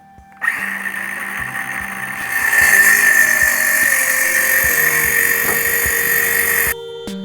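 Power drill driving screws while framing walls for a small off-grid tiny house, a loud steady whine with a rising tone and occasional clicks, running close and alone for several seconds.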